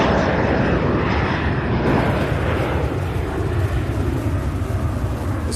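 An airplane taking off at Louisville International Airport produces a loud, continuous engine roar with dense broadband rumble that stays strong throughout.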